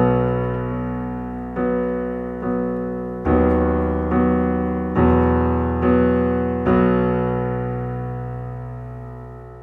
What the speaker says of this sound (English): I love the grand piano sections and then the second model in there